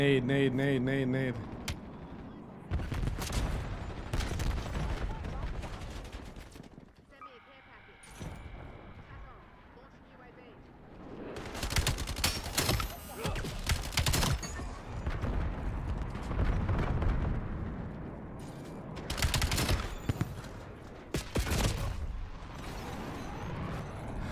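Grenade blast and bursts of gunfire in Call of Duty Black Ops 7 multiplayer, several loud broadband hits and crackling volleys spread through the stretch, mixed under ongoing player chatter.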